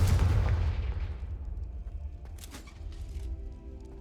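An explosive fire spell in the Hogwarts Legacy video game bursts with a loud, deep boom that rolls off into a fading rumble, followed by faint crackles and debris.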